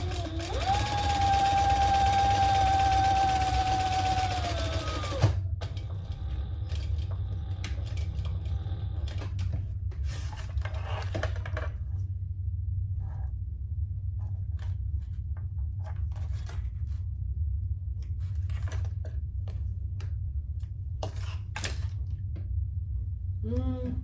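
A sewing machine runs in a short steady burst while stitching crossbody bag pieces together, followed by quieter clicks, rustles and handling noises at close range.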